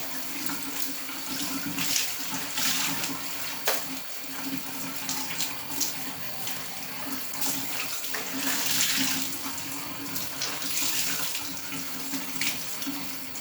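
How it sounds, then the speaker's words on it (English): Cold tap water runs continuously into a sink, splashing and gurgling steadily as dyed fabric is rinsed under the stream. "Just wash it out under cold water."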